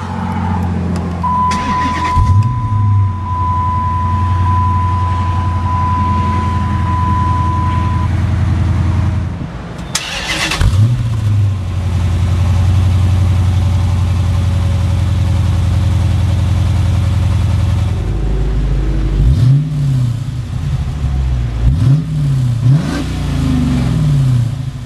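A 2010 Dodge Challenger R/T with keyless push-button start cranks and catches, then settles into a deep, steady idle broken by several sharp revs that rise and fall, loud and close with no talking.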